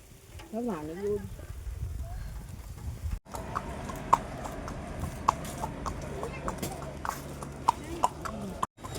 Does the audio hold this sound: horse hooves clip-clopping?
yes